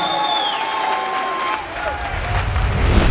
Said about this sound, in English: And a round of applause for your runner-up, Michael Brown!